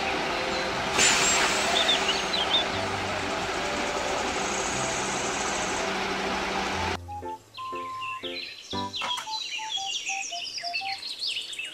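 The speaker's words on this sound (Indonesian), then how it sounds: "mobil truk molen" A toy cement mixer truck gives off a steady, loud engine-like rumble for several seconds, then switches to a string of short electronic beeps and chirpy tones.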